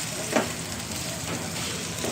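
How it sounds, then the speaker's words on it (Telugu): Curry leaves and ground green chillies frying in hot oil, a steady close sizzle with soft crackling bursts, no voices. "కరివేపాకు, పచ్చిమిరపకాయలు బాగా నూరినాం కాబట్టి మంచిగా నూనెలో గోలాలి."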